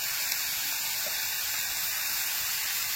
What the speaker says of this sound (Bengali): উনুনটা ধরে গেছে, কড়াই একদম গরম হয়ে গেছে, দিলেই আওয়াজ হবে ছ্যাপ।